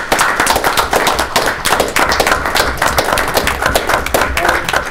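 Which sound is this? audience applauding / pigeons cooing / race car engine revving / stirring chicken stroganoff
audience applauding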